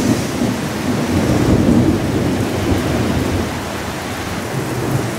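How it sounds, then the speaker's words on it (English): Deep rolling thunder rumbles steadily through a heavy downpour, the rain a constant hiss throughout with no voices. "Thunder,"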